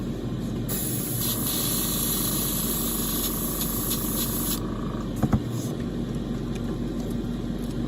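Steady hiss of an airbrush spraying paint onto small ox miniatures, running continuously at close range with a brief break and a couple of small clicks partway through.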